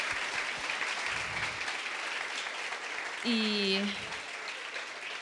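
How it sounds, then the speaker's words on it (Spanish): Steady audience applause at a public science talk, held at moderate loudness throughout, with a brief voice cutting in near the end. "le vamos a dar un fuerte aplauso"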